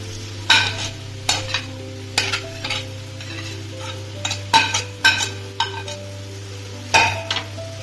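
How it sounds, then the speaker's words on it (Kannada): A spoon scrapes and stirs smashed potatoes in a pan for potato palya over a stove, in a series of short, close scraping strokes at an uneven rhythm, over a low, steady hum. "ಸ್ಟವ್ ಕಮ್ಮಿ ಮಾಡ್ಕೊಂಡು ಇದು ನೀಟಾಗಿ ಮಿಕ್ಸ್ ಮಾಡ್ಕೊಳ್ಳೋಣ"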